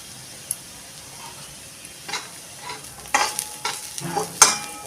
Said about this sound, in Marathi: बघा आता हा मसाला आपला चांगला परतून झालेला आहे.